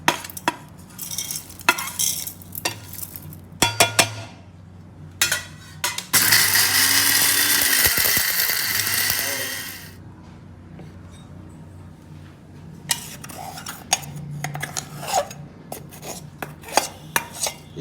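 A kitchen mixer grinder runs in one loud, steady whirring burst of about four seconds while grinding sugar and cardamom for a homemade badam mix, framed by quieter clinks and handling of the jar.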